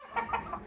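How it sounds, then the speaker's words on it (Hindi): An Australorp hen gives a quick series of three or four soft, close clucks in under a second, with no other sound competing. "वो मैं आपको एक मुर्गी दिखाता हूँ"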